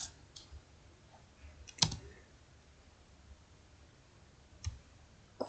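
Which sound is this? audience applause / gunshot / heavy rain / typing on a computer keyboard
typing on a computer keyboard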